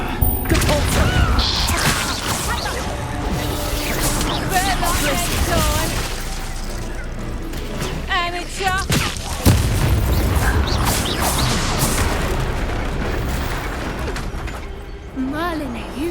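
A Bombarda blasting-spell explosion in the game Hogwarts Legacy, with booming blasts and crashing bursts amid busy combat effects and music, and voices talking throughout.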